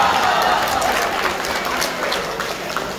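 Audience applause at a Bunts community day gathering in Dubai, a dense, steady wash of many hands clapping throughout, fairly loud with no speech over it.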